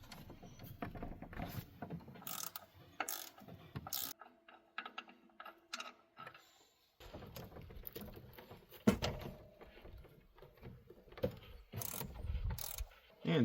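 A ratchet clicks while loosening the 15mm serpentine belt tensioner bolts on a Chevy Silverado, with rapid bursts of ratcheting, a quieter pause and some scraping handling noise close by.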